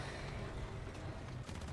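Dense bursts of tank gunfire in War Thunder, heavy and continuous with a booming low end, one sharper blast near the end.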